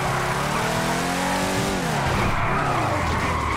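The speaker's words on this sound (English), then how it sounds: "I'm going to try and drift through the police station." Car drifting in GTA V with sustained, loud tire squeal over an engine note, the skid pitch bending and sliding continuously before trailing off.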